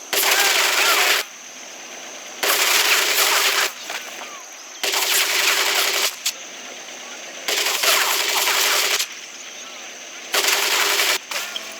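Bursts of machine gun fire from the video game Medal of Honor Pacific Assault, several loud sustained volleys roughly a second long separated by short quieter gaps, steady and close.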